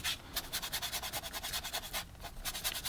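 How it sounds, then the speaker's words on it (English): Paintbrush scrubbing oil paint onto canvas in quick, steady back-and-forth strokes, a dry rhythmic rasp repeating many times close up with no talking. "I'm just scrubbing on the paint, having a great time here."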